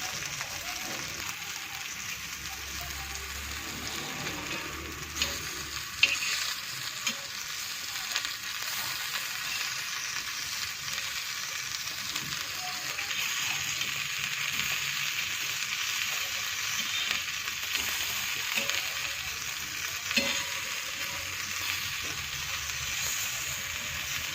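Boiled-potato tikki shallow-fry in a little oil in a pan, giving a soft, even sizzle that runs on without a break, with one or two faint knocks partway through.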